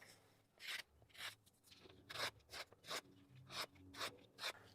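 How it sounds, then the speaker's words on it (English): A German-made HORL2 rolling sharpener polishes a knife edge, giving about a dozen quiet, rhythmic rasping strokes with short pauses between them. "we're just polishing up that blade, that edge"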